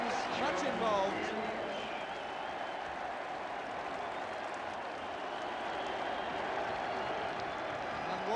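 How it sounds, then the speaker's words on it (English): Football crowd at a Wales v England Home Championship match applauding a goal, a broad, steady roar of clapping and cheering that fills the stadium for several seconds, with a commentator's voice running over it. "Walsh taking the applause of the crowd"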